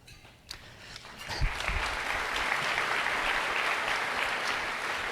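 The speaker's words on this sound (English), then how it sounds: "I knew somebody would applaud when I said I was leaving." An audience at a school district State of the Schools address breaks into applause after a couple of isolated claps, swelling into steady, moderately distant clapping that holds to the end.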